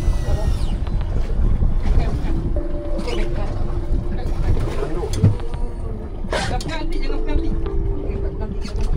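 A boat's engine drones steadily on a rough sea with big waves, mixed with heavy wind buffeting and splashing, while people talk over the noise.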